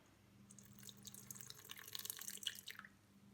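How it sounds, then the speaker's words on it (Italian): Water is poured into a stand mixer bowl set on a kitchen scale, making a faint, brief splashing and trickling sound that lasts a couple of seconds in a quiet room. "vado a misurare 50 g d'acqua"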